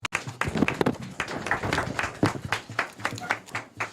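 Audience applause after a speech at a parliamentary debate on the 2025 mid-year budget review, scattered hand claps from a moderate crowd with some background murmur mixed in.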